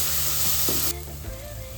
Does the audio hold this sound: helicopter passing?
no